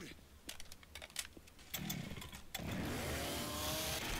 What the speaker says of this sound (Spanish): La motosierra, sí, eso seguro.